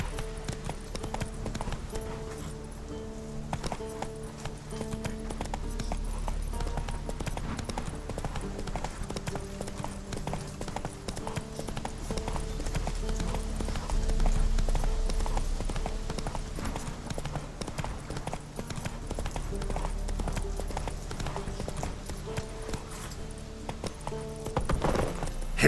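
A horse galloping in the game The Witcher 3, its hooves a fast steady clip-clop that runs throughout at close range over a low background bed, with no voices heard.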